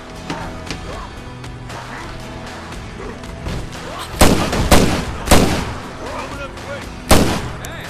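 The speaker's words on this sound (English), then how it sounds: "Wasted four shots on one zombie" Gunshots fired at a zombie in the survival video game State of Decay: several loud, sharp reports around the middle and a final one near the end, each standing out over a steady game background.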